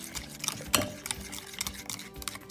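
Wet ingredients with nutmeg are stirred in a bowl for Gambian crunchy donut batter, giving quick, irregular clinks and scrapes of a utensil against the bowl, close and fairly quiet.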